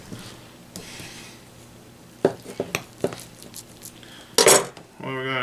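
A knife trims a raw brisket on a board: scattered close clicks, taps and scrapes, with a louder clatter of handling near the end and no talking.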